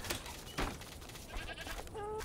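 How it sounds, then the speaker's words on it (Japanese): Game sheep in Mr. Prepper's underground livestock shelter bleat during shearing, a few short bleats over a steady noisy background, with a brief tonal effect near the end. "こっち側も毛を刈って、毛を刈る。"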